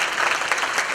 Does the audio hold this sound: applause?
yes